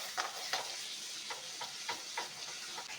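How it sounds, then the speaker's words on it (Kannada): Cumin, garlic and dried red chillies fry in a pan for an Andhra-style ghee roast chicken masala, giving a steady close sizzle broken by spoon stirs and scrapes about every half second, with no voices. "ಇವಾಗ ಇದು ಸ್ವಲ್ಪ ಫ್ರೈ ಮಾಡ್ಕೊಳ್ಳೋಣ."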